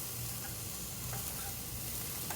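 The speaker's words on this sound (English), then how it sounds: "I still hear the sizzling going on." Steak sizzling on an outdoor grill gives a steady, close hiss and crackle that runs unbroken throughout, with no voices.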